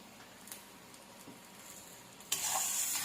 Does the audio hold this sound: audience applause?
no